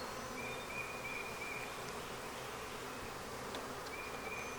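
Honeybees swarm over heavy, nectar-laden Flow Hive frames in a red hive, making a steady close drone that holds without a break from start to finish.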